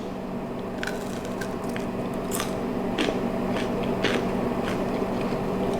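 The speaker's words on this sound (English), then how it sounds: "I'm gonna take a bite of this so you can hear the crunch." Crisp, close crunching of a crunchy fried dipper being bitten and chewed, a string of sharp cracks and crackles over steady background noise, with no talking.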